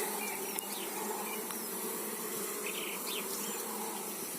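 Dense, steady buzzing of many honeybees swarming close by, a continuous hum with no voices.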